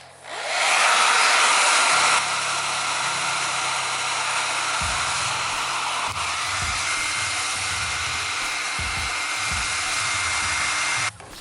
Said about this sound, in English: So I just have a hair dryer. So I'm gonna put it on the hottest setting.